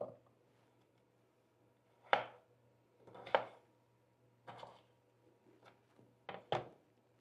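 A kitchen knife cuts red potatoes into bite-sized chunks on a board, giving about six crisp, separate chops spaced roughly a second apart, close and fairly quiet, with no voices.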